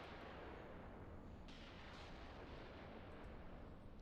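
Artillery explosions in the WWII tank game Tank Warfare: Tunisia form a dense, continuous rumbling barrage with overlapping distant booms and no clear gaps, fairly faint throughout.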